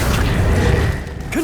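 The Accio spell is cast in Hogwarts Legacy, giving a loud mechanical pull effect with a ratcheting, creaking texture over a low rumble. A short swooshing tail rises at the end.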